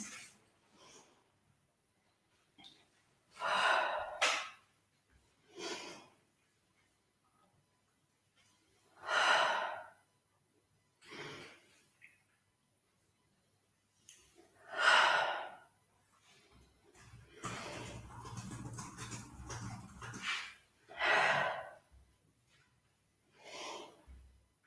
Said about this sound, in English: Now breathe in and breathe out.